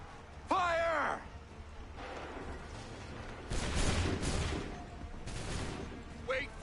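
A shouted order in Assassin's Creed III is followed by a ragged musket volley, two crackling bursts of massed gunfire with a lingering rumble, and voices heard in between.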